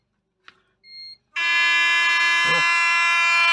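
A Mazda RX7 emits electronic beeps: a short blip, a brief higher tone, then a loud continuous buzzing alarm tone that holds steadily, with a short voiced mutter partway through.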